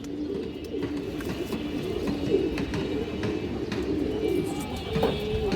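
Road master pigeons, lively white birds with purple legs, give low rolling coos in a steady series, close and moderately quiet, with faint chirps in the background.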